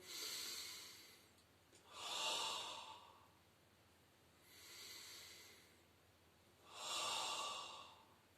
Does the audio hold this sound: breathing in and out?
yes